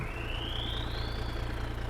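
Lizard BG2T tractor in Farming Simulator 22 idling, a low steady engine drone with a thin whine slowly rising in pitch on top, fairly faint and with no talk.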